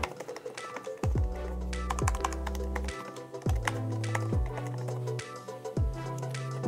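Keys tap on a computer keyboard as a website title is typed, light irregular clicks over a loud looping electronic music bed with repeating deep bass notes.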